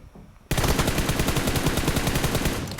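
Rapid automatic gunfire in PUBG Mobile during a team deathmatch, bursting in loud and close after a brief quiet start and hammering on in a dense, steady rattle of shots.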